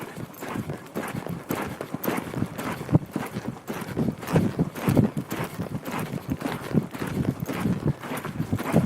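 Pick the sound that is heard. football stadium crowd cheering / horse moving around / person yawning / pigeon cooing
horse moving around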